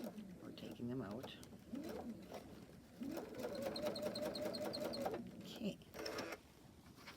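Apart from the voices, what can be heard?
sewing machine basting stitch on a quilt block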